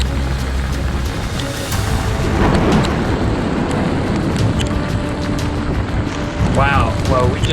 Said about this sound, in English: the thunder is so close, it rattles your chest